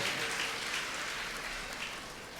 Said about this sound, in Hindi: तालियां महिलाओं में कम दिखाई दे रही है